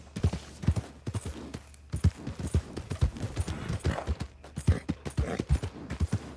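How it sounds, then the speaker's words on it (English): Hooves clip-clop in a quick, uneven rhythm as a horse is ridden in Red Dead Redemption 2, fairly close and continuous, with no voices over it. "Stay on the goddamn horse."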